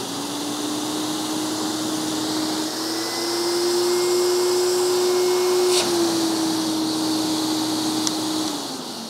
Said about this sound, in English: So it's a very slow, soft start motor.